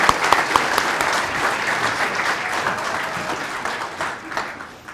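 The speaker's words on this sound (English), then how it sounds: "Please give another round of applause to these groups for the dedication and commitment to Riverside County" Sustained applause from the audience at a Riverside County employee recognition and awards ceremony, steady dense clapping from many hands that holds for several seconds and then slowly thins out.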